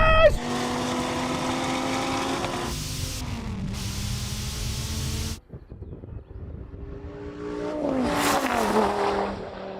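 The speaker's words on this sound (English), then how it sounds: "When you hear the Viper's power coming off the line, it's an instant reminder of just how much torque this beast has." A Dodge Viper racing a Mustang GT, engine revs climbing and dropping through gear changes, loud and close, then a sudden cut to quieter rumble before another rising surge of acceleration.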